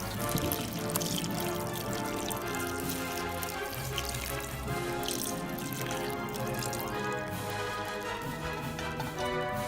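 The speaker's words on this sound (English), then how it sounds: "It's really hot and dark. I pour it in here." Hot, dark tea pours steadily into a bucket with a splashing, gurgling wash, close and continuous throughout, with no voices.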